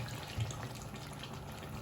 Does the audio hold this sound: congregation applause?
no